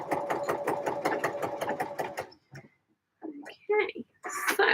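A domestic sewing machine stitching knit fabric runs in a quick steady rhythm for a couple of seconds, then stops, followed by faint handling clicks and rustling of the cloth nearby.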